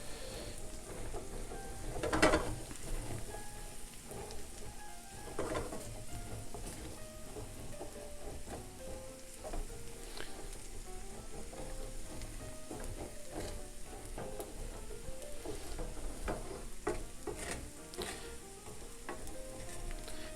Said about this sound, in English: Now, typically, you wouldn't cook garlic for this long, but in this case, we want them to brown a little bit before we add our white wine.